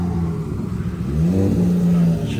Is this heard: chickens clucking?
no